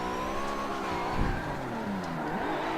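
A race car in Forza Motorsport 7 accelerates hard with a steady, rising engine whine and climbing harmonics, moderately loud and alone.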